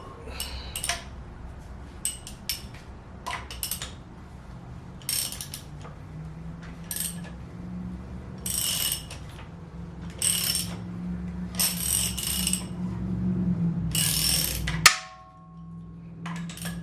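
A KX450F motorcycle engine is turned over by hand with a ratchet, making close, intermittent bursts of rapid clicking with mechanical clunks between them, ending in a sharp clack before near silence.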